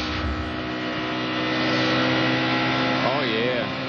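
A loud race car engine drones steadily with a rough, rattling, uneven tone, continuous and close, running unclean with a valve-related rattle.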